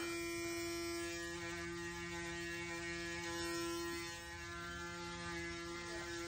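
A Braun Series Pro 9 electric shaver hums steadily and faintly throughout, with a slight dip in level near the end, while trimming a neckline.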